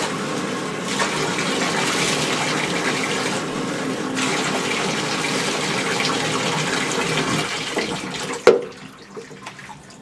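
Bath water drains from a tub after washing a dog, a steady loud rush and gurgle that runs for several seconds before breaking off with a thump and a few quieter gurgles.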